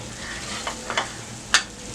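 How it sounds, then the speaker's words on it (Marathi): Potato pieces fry in hot oil with red chilli masala and spice powders for a spicy potato bhaji, a steady close sizzle broken by a few short stirring scrapes and one sharp clatter. "बटाटे घालूया, बटाट्याचे आपण तुकडे करून घेतलेले आहेत।"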